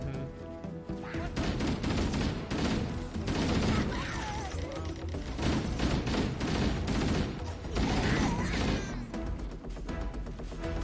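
Needler fire in the video game Halo, rapid bursts of gunfire and impacts layered over loud game music and effects, continuous and dense throughout, close and busy.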